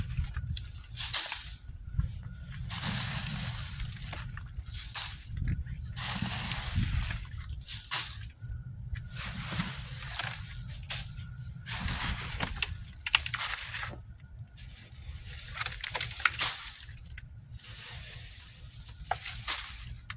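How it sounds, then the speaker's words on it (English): Mulch is shoveled into a backyard compost bay in a series of rough, crunchy scraping and dumping bursts, each about one to two seconds apart, close and fairly loud with no talk. "now it's easy filling the compost"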